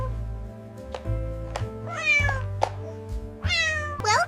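A kitten meows repeatedly in bright, rising calls, several short cries spaced across a few seconds over soft background music, close and clear.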